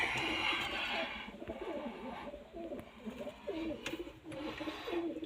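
Pigeons in a coop coo in soft repeated rolling phrases, fairly close but quiet, with a brief burst of broadband noise at the start.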